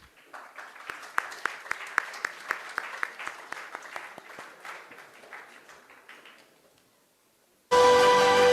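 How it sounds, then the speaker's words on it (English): Audience applause at a formal dialogue and felicitation event, a burst of crowd clapping that peaks early then gradually thins and fades to near silence, followed by a brief loud burst of noise at the end. "A round of applause will be really helpful now."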